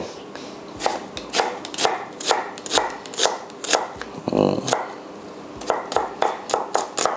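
A knife dices onion into fine brunoise on a cutting board for beetroot borscht, with brisk, steady chopping strokes close by. A short run of rapid rocking cuts breaks up the rhythm midway.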